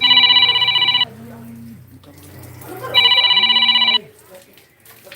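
A telephone rings during a live call, two loud electronic trills about two seconds apart, each about a second long, with quieter background noise between them.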